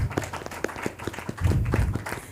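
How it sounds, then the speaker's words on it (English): Applause from a panel discussion audience, scattered claps over a low rumble of room noise, fairly close and uneven in rhythm. "Can we get a round of applause for them?"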